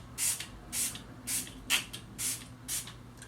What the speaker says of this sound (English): I'm gonna go ahead and spray my face with this Smashbox primer water.